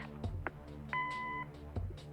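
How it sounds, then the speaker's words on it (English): An answering machine beep from the video game Kathy Rain, a single clear half-second electronic tone between soft clicks and a low humming background, with no voices. "Leave a message after the beep."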